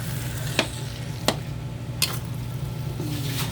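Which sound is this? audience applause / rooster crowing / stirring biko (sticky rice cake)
stirring biko (sticky rice cake)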